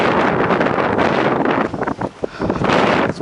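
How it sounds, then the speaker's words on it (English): Strong blizzard wind blasts straight into the microphone, producing a loud, continuous roar that briefly dips and then surges back. "literally blowing me away. Like, it's freaking windy."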